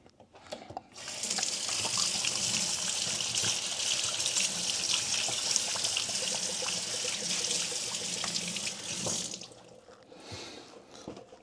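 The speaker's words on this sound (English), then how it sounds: "So I'm just going to wash this papaya now." A papaya gets washed under a running kitchen tap, with water gushing and splashing steadily over the fruit for several seconds, then easing to a trickle as the tap turns down, with no speech.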